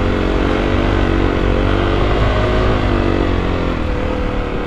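Kawasaki KLX250 dirt bike engine droning steadily and loudly close by as it climbs a steep snowy enduro trail, a continuous strained motor note with no talk.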